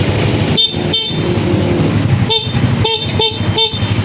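Loud, close motorcycle horn beeps on a Suzuki Raider: two quick toots, then four more in a rapid run, over a steady low engine idle.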